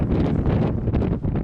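Wind blows steadily along a beach on the Scottish Hebridean islands, gusting hard against the microphone with a low, roaring rumble and no voices.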